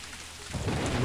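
Steady rain and a low rumble of thunder fill a scene in the video game Ghost Master, swelling louder halfway through the brief stretch with no voices over it.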